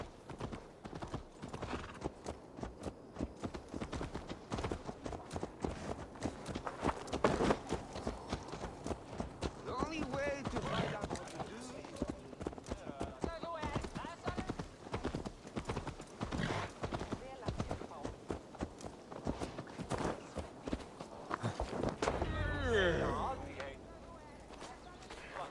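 Horse hooves clip-clop steadily in Assassin's Creed Valhalla, with an occasional whinny, while music and speech run over them; a louder rumble rises near the end.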